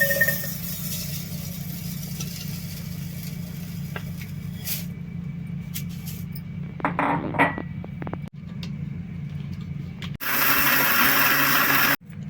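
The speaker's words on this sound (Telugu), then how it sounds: "ఇప్పుడు మిక్సీ పట్టేసుకున్నాం" A mixer grinder grinding dry rice whirs steadily with a low hum, rattling and clinking in between, then a loud harsh burst of grinding near the end.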